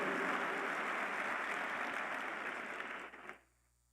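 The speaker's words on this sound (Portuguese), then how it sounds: "Pode aplaudir o Senhor." A church congregation applauds during a worship service, dense, even clapping that holds steady and then fades quickly to near silence.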